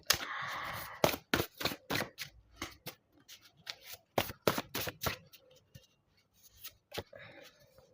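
Tarot cards are shuffled and laid down up close, with rapid papery riffles and sharp slaps coming in irregular bursts separated by brief pauses.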